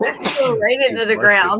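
A single sharp sneeze bursts out near the start, followed immediately by a person talking.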